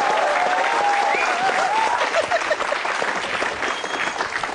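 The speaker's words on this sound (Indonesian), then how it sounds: "Tepuk tangan untuk Jui Purwoto." Applause for a comedian on an Indonesian comedy stage, a dense, steady wash of many hands clapping from a crowd, with a few voices and whistles riding over it.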